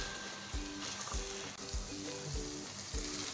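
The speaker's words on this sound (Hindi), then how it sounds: "तो यहाँ पे देखें कीमा और लोबिया को फ्राई करते हुए हमें 3 से 4 मिनट हो चुके हैं" Minced keema and lobia fry in a pan over a medium-to-high flame, giving a steady, soft sizzle. Rhythmic background music plays over it and no one speaks.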